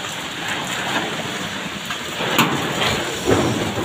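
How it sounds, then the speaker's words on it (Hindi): Heavy rain pours down in a fierce storm, a dense continuous hiss with a few sharper spatters, steady and fairly loud without voices. "बहुत भारी तूफान"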